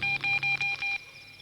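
A quick run of telephone dialing tones, about six short beeps in a row, then quiet.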